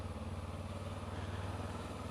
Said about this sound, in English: The petrol engine has started again, and it is definitely driving the bike rather than the electric motor.